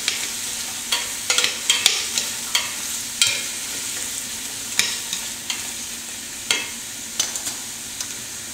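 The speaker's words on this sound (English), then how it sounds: "Give that a little stir." Chopped celery and vegetables are stirred in a stock pot, with a soft sizzle underneath and a steady run of spoon scrapes and knocks against the pot.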